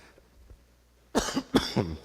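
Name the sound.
cough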